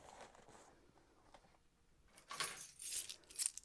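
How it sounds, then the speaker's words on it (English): Quiet rustling gives way to a faint, bright jingle of keys shaken together near the end. "house keys,"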